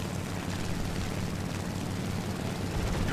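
Engine drone of a biplane in the War Thunder combat flight game, a steady, dense rumbling roar that holds evenly throughout with no voices over it.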